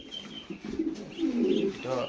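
Pigeons of several fancy breeds coo in low, soft, throaty bursts, several calls close by, with a faint high hiss in the background.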